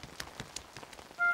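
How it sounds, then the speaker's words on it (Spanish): Light rain falls in a Peppa Pig cartoon, faint scattered drops pattering in an irregular rhythm, with a brief tonal chime at the end. "Hoy está lloviendo un poco."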